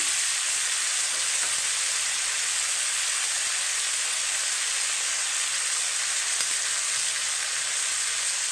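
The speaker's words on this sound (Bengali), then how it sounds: "এবার আমি কাজু কাজু মগজদানা বাটাটা দিয়ে দিচ্ছি" A paste of cashew and melon seeds fries in a hot pan, producing a loud, even, unbroken sizzle close by for the whole stretch, with no speech.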